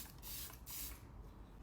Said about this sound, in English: The deal with the glowiest setting spray I have,